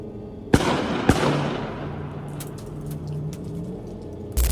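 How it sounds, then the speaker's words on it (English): Gunshots ring out near a campsite: two sharp, close reports about half a second apart, each trailing a long echo, followed by fainter distant cracks. "Unexpected gunshots suddenly echoed through the area, immediately breaking the silence."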